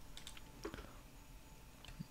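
A computer keyboard is typed on in short, sparse bursts of faint clicking keystrokes, very quiet with a low background hum.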